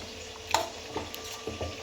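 Capsicum sautéing in a pan for pav bhaji gives a soft steady sizzle, with faint stirring clinks and scrapes over it, quiet and close.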